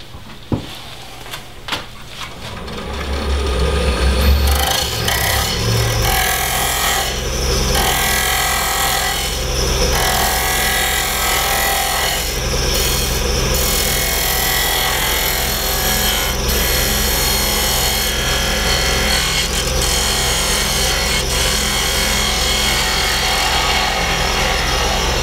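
A wood lathe spins an off-center pendant blank while a chisel rounds over its corner, a loud continuous whirring hum with scraping tool contact after a few quieter taps at the start.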